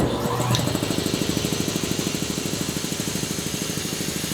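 Air compressor in a rotary shop running close and loud, a fast regular pulsing chug that holds steady while it builds pressure with the valve shut, with no talk.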